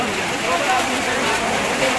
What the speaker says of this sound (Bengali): বৃষ্টি কিন্তু শুরু হয়ে গেল।